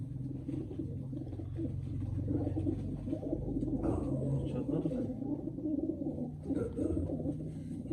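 Pigeons coo repeatedly in a low, steady murmur close by, a continuous layer with people talking over it at a rooftop pigeon-keeping gathering.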